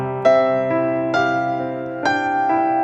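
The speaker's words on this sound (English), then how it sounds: "you could upgrade the 2x4 left-hand pattern with the Wonder Wave pattern" Piano left hand playing the Wonder Wave pattern, a rolling figure of struck bass notes in a steady rhythm that repeats and sustains under one another, close and clear.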